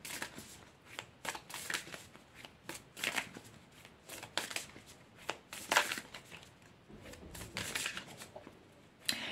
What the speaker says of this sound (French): on va prendre 5 cartes de Yanao